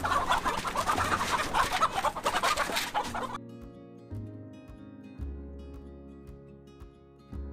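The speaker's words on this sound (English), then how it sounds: "We got a few turkeys and guineas in here" Turkeys and guinea fowl in a farm pen give dense overlapping clucks and chatter that cut off sharply after about three seconds, followed by quieter low rumbling and faint background sounds.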